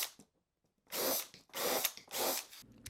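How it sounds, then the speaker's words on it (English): Power drill pre-drilling and countersinking screw holes in plywood closet-shelf brackets in a workshop, three sustained whirring bursts of about half a second each, close and loud, separated by short pauses. "I pre-drilled and countersunk the screw holes for each one of the brackets."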